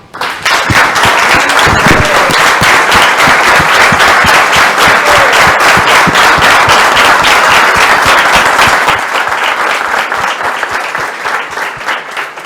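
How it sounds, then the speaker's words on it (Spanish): A studio audience on the show Preparen Apunten gives loud, dense applause welcoming guest Guillermo Moreno, sustained throughout and tapering slightly near the end. "Quiero pedir un fuerte aplauso para Guillermo Moreno."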